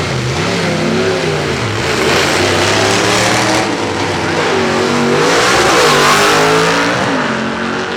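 A drag race car accelerates hard at Woodburn Dragstrip during the Fall Classic eliminations, its loud engine roaring and climbing through gears steadily for several seconds, close and dominant.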